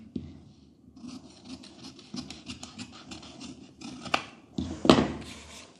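Scissors cut blouse fabric for a Sabyasachi-style blouse, giving a close series of soft snips and scratchy rustles. A sharper cutting crunch comes near the end, with no talking.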